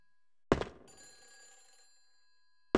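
An old telephone rings in the Silent Hill video game: a loud, harsh bell burst that fades out over about a second and a half, then begins again after a short silence.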